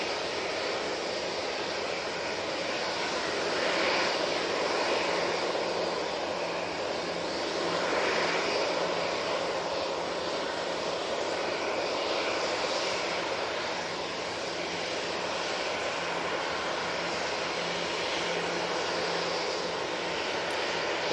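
A jet airliner departing Manchester Airport, heard as a steady, loud, broad engine roar with slow swells in intensity across the whole stretch, no voices over it.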